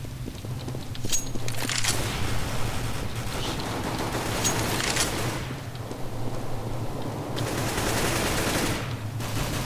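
Rapid gunfire in Counter-Strike: Global Offensive, a match against bots and players, with dense bursts of automatic shots and clattering impacts layered over continuous game ambience, loud and busy throughout, no voice heard.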